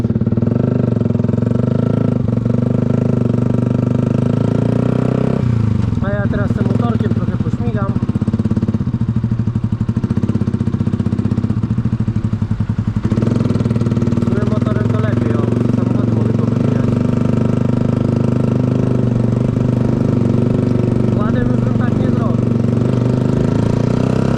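A Yamaha motorcycle engine, with unsynchronized throttle bodies, idles and revs unevenly nearby, its rumble rising and sagging in uneven surges as it struggles to rev.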